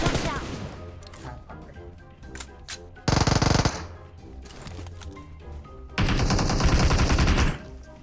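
Gunfire in PUBG Mobile comes as scattered sharp shots, then two loud sustained automatic bursts of about a second each, close and heavy.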